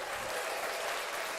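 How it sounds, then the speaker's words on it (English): Spectators at a shooting competition final give a brief round of applause, a soft, even patter of many hands heard at a distance, with no talk over it. "Applause for him."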